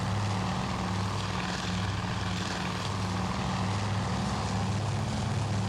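WWII Wildcat propeller fighter planes in the naval combat game Task Force Admiral, a continuous droning engine roar with steady low hum, loud and unbroken throughout.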